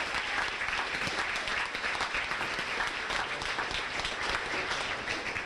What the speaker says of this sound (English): how about a nice round of applause for Cheryl Wolk and the kitchen staff